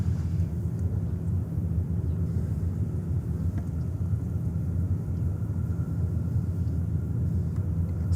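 An airplane departing from JFK Airport in New York gives a steady, deep jet rumble that holds at an even, moderately loud level, heard from a distance outdoors with no voices.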